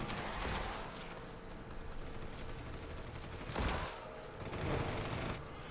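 An artillery support strike lands in Red Solstice 2, two deep booms cutting through dense, continuous gunfire in a real-time tactical shooter battle.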